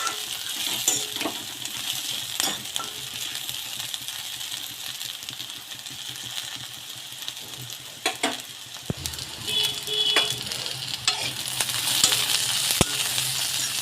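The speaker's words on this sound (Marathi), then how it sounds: "याला तेलामध्ये फ्राय होऊ द्यायचे आहे." Raw banana and eggplant frying in oil in a pan, giving a steady, moderate sizzle with crackling pops and a few sharp metallic clinks from a spoon stirring.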